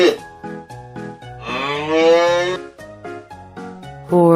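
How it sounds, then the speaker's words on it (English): A cow moos in two long, loud bellows, the second one rising and sustained, with a looping backing melody playing throughout. "Cow."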